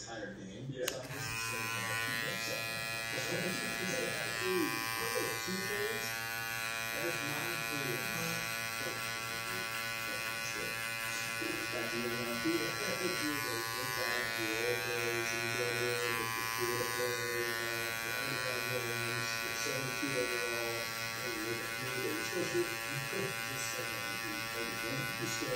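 Babyliss LoPro FX cordless hair clipper buzzing steadily as it cuts a guideline, a continuous close electric hum throughout while someone talks over it.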